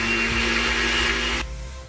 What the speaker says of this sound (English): So now we can start blending it.